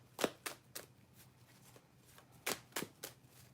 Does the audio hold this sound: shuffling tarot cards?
yes